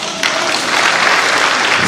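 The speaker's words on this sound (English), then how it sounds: "Yeah, you can clap." Applause breaks out abruptly at a government meeting, a loud, close wash of clapping from the gathered audience that holds steady for the rest of the moment.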